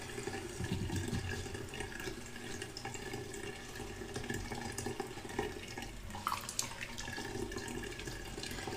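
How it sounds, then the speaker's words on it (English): Water runs steadily from a tap during a quick wash at a sink, a continuous close splashing stream at low to moderate level, alone with no talking. "I'm going to go ahead and just give my belly a quick wash."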